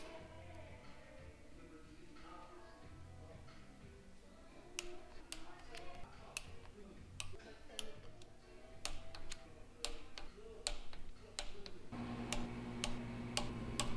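Torque wrench clicking repeatedly while tightening cylinder head bolts on a 3000GT VR4 engine with a stage 2 cam, sharp close ticks in an irregular series over a low steady hum, growing denser toward the end.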